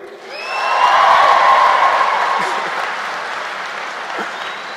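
A commencement crowd at a university graduation bursts into loud applause that swells quickly, holds, then slowly tapers, with a few faint whoops and cheers in the mass of clapping.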